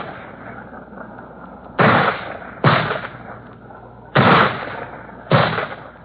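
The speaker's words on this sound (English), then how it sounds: "And behind them, the men with mortars, lobbing in their shells." Mortar rounds fire in a 1951 Korean War radio broadcast, four loud, sharp booms spaced a second or two apart over a low rumbling background, each with a short decaying tail, slightly muffled by old recording quality.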